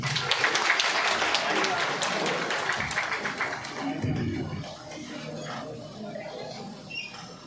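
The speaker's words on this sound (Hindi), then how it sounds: "जोरदार तालियों के साथ उनका स्वागत कीजिए।" A school annual day cultural program crowd applauds to welcome a dance group onto the stage. Dense, loud clapping opens the span and gradually thins and fades under some voices.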